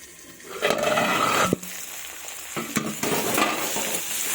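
Loud, close sizzling of potatoes frying with turmeric in hot oil, broken by a few stirring scrapes and clanks.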